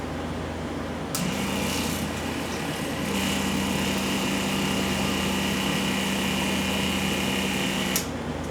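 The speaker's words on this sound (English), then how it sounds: "we're going to pump it out until we start seeing beer" A small pump draws beer out of a keg with a steady mechanical whir and hum that starts abruptly, runs continuously and evenly at moderate volume for several seconds, then cuts off.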